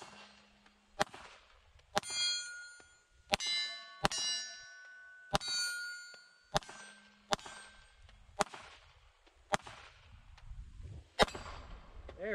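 Glock 19 Gen 5 pistol rounds striking steel plates at an outdoor range: about nine sharp gunshots spaced roughly a second apart, each followed by a bright ringing clang of steel, loud and without talk.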